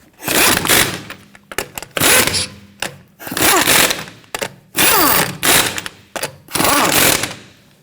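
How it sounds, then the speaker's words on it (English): Lug nuts are run onto the wheel studs of a 2011-2015 Kia Sorento during a rear brake caliper replacement, with repeated loud bursts of power-tool whirring separated by short pauses. "Now we're going to go ahead and get our lug nuts started. Once we have them all started, we'll go ahead and snug them down."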